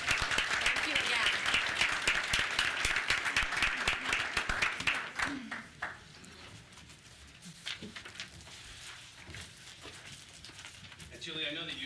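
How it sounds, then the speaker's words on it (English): Applause from a school board meeting audience, dense clapping for about five seconds that thins into scattered claps and room noise, with voices murmuring underneath. "Give you one more round of applause as you make it back to your seats."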